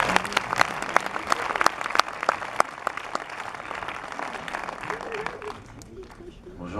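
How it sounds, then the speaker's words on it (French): Audience applauding at a cinema premiere in Mulhouse as a young boy is invited up, a dense patter of many hands with sharp individual claps standing out, tapering off toward the end with murmuring and talk underneath. "on peut l'applaudir en même temps, ça va l'encourager"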